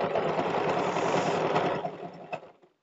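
Sewing machine stitching a belt onto a box-pleated short skirt, a close, loud continuous whirring run of needle strokes that slows and stops near the end.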